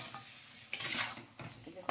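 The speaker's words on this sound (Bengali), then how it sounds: "ভালো করে নাড়িয়ে নিচ্ছি" A spoon stirs boiled meat in a cooking pot, with oil already released, giving short scraping and sizzling swishes in two or three quick strokes, close and fairly quiet with no talk.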